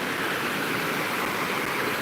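A stream of water flows steadily nearby, a constant close rushing wash with no break and no voices over it.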